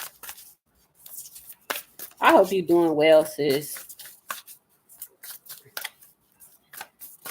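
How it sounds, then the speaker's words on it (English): Cards are shuffled in repeated quick, crisp riffles and snaps, close and clear, with someone speaking briefly in between. "I'm going to shuffle some more cards."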